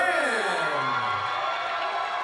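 A Muay Thai fight crowd cheers and whoops for a Las Vegas fighter being introduced, a loud burst of voices that swells and trails off over a couple of seconds.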